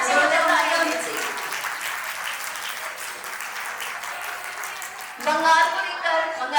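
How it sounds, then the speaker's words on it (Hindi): Enthusiastic applause from an audience at a Teej Milan dance celebration fills the clip, steady clapping that dips briefly before swelling louder again, with a voice speaking over it. "जोरदार तालियां होनी चाहिए"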